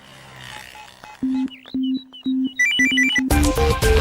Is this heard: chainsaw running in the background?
no